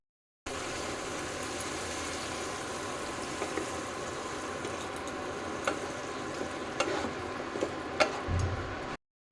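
Radish fries in a pan with a continuous, moderately loud sizzle and faint ticking crackles, plus a few louder pops near the end and no talk.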